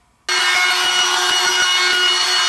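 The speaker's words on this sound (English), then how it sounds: "route a 1/16 inch round over all the way around the perimeter on both sides" A router cuts a 1/16 inch roundover along the edges of wooden runners for a child's rocking chair, starting abruptly as a loud, steady, close-up whine that holds without a break.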